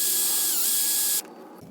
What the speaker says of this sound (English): what I'm gonna do is drill a hole right here.